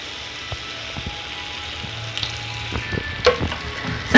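Beef fries in hot sunflower oil with a steady soft sizzle, punctuated by sharper crackles and pops that grow busier toward the end, close and alone.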